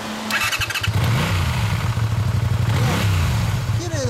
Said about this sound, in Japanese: 大野さん、エンジン音聞かせてもらえますか